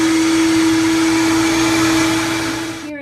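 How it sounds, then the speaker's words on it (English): Kitchen blender whirring as it purees tofu into a smooth vegan omelette batter, a loud steady motor hum with a constant pitch that winds down and stops right at the end. "So now we're gonna blend this until it is smooth."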